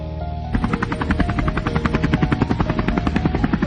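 Helicopter in an action video game, rotor chopping loud and steady with a rapid rhythmic thump that starts abruptly after a brief lower hum and continues alone to the end.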